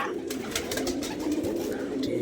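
Pigeons landing and cooing at a loft, soft repeated coos and light flutters close by, over a steady background hum.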